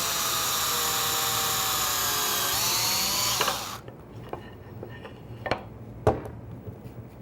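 An electric drill spins with a high whine for a few seconds while boring into wood for a screw joint, then stops, followed by a few light knocks and clicks.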